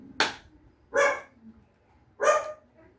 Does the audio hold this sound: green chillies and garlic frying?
no